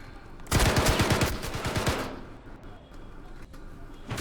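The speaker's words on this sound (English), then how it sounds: "Let me just kill these guys with the assault rifle first." Assault rifle fire in the video game Star Citizen: a rapid burst of automatic shots, loud and close, rattling for about a second and a half before trailing off into quieter ambient game sound.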